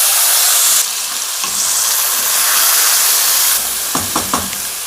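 Half a kilo of potatoes tipped into hot oil with asafoetida and curry leaves for a South Indian sambar dish, giving a loud steady sizzle with a few sharp stirring knocks near the end, no talking.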